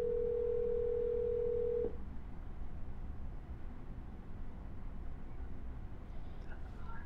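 A steady telephone dial tone while calling back after a dropped call, loud and continuous for about two seconds, then cut off into a low background hum.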